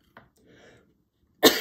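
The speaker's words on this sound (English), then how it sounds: "Got the sneezes." One loud, abrupt sneeze bursts out at the end, preceded by a faint short breathy sound and a soft murmur in an otherwise quiet room.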